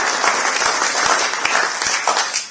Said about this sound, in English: A round of applause, please, for the beautiful girl.